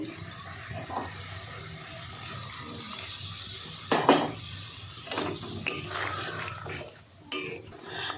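Hot water poured into a cooking pot of fish curry with koi fish, drumsticks and new potatoes, a splashing pour with a few clinks of the pot in a quiet kitchen.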